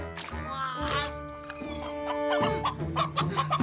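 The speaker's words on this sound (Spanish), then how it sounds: "¡Espera, gallina! ¡Ven, gallina!" Cartoon chicken clucking and squawking in a series of bursts, close and fairly loud, with busy animated soundtrack tones underneath.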